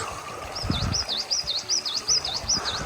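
Rapid, repeated high chirps from a bird in a forest at a campsite in Andırın, Elmadağ, rising and falling in a regular pattern, clear and close against a soft outdoor background.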